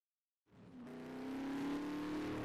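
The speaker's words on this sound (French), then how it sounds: "Voiture." A car engine starts up and settles into a steady, loud drone with a rising tonal hum, close and alone with no talk.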